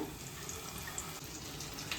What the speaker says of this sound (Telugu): సో ఇప్పుడు ఇలా వాటర్ వేసుకొని కలుపుకున్నాం